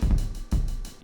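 Fast kick drum pattern in a soul-style drum break, two bursts of rapid, punchy low thuds with hi-hat-like ticks above, loud and close with no voices.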